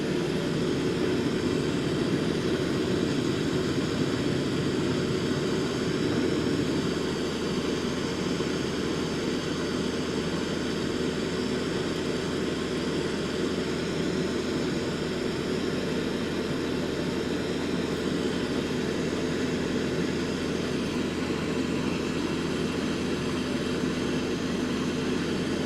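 Boeing 787-9 engines at full power in Microsoft Flight Simulator 2024 make a constant, unbroken jet roar and deep drone that holds level throughout, with no speech.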